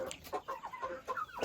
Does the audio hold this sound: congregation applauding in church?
no